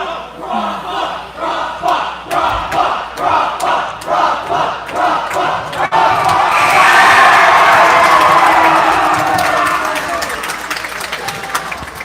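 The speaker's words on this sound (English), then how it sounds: "the crowd is very distracting to say the least" A crowd at a girls' high school basketball game cheers and shouts loudly, first in rhythmic chanting bursts, then swelling into a sustained roar that slowly fades, with no other sound standing out.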